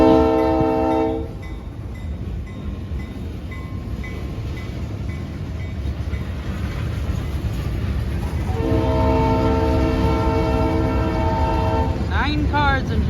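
Short Michigan Shore Railroad freight train of nine cars going by: a loud horn blast, a steady rumble of wheels rolling past nearby, then the horn sounding again as the train continues.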